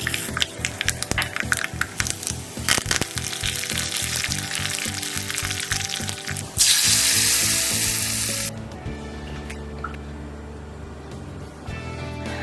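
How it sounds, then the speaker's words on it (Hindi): Mustard seeds and curry leaves crackle and sizzle loudly in hot oil, a tempering being added to green tomato chutney, with a dense burst of sharp pops that later settles into a steadier, softer fry. "अब हम चटनी को एक्स्ट्रा फ्लेवर देने के लिए इसमें सरसों के दाने और कड़ी पत्ते का एक्स्ट्रा तड़का लगा देंगे।"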